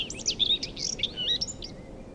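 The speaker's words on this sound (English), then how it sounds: "How birds fly?" Birds chirping in a rapid run of high, thin tweets and trills, fairly close and clear above faint low background hiss.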